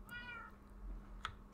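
A cat meows once inside a moving car, a faint, drawn-out cry early on and a brief higher chirp near the end, heard over steady low road and engine rumble.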